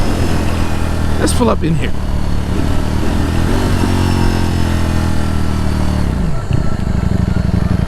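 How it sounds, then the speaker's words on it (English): A motorcycle engine runs loud and close as the bike rides along, its steady drone dropping in pitch as it slows and pulls over near the end, while someone talks over it. "Seeing the bike in motion, seeing the bike moves."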